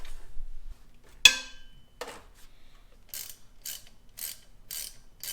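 A half-inch ratchet drive works on a Jeep XJ Cherokee 4.0 idler pulley: one sharp metallic clack, then a series of quick, close ratcheting bursts in a quiet garage.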